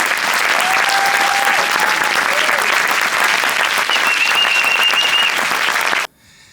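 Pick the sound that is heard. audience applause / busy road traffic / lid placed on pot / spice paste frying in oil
audience applause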